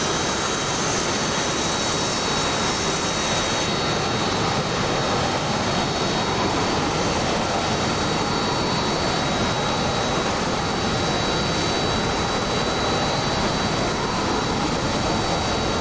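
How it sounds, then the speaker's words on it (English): Jet engines of a Mirage and a Harrier roar during a dogfight in the DCS flight combat game, a dense, unbroken loud engine wash with a steady high whine that holds throughout, no voices. "Last battle today is going to be Dark and his Mirage versus Violet and his Harrier"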